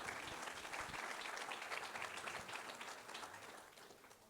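An audience at the 2021 Septuors 81 industry trophy award ceremony in the Tarn claps together in steady, dense applause that holds strong and then slowly fades toward the end.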